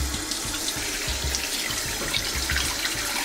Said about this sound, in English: Just rinse out the sink.